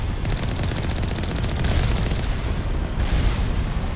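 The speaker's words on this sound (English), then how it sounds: "I'm getting shot at." Rapid, continuous gunfire in Mass Effect Legendary Edition, loud automatic bursts and booming impacts rattling without pause, with a swell of heavier blasts partway through and no voices.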